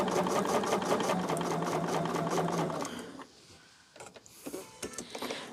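Home sewing machine stitching a quilt block: a steady, close, rapid whir for about three seconds, then it stops and light handling clicks and rustles follow.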